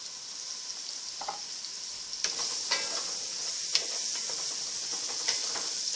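Shallots fry in a pan of onions for chili, giving a steady close sizzle with a few faint taps and stirring scrapes over it and no talking.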